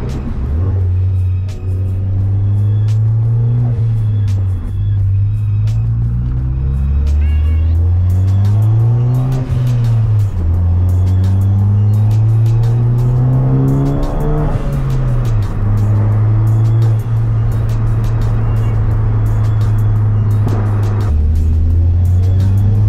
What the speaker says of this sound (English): I think it's time to get some turbo noises.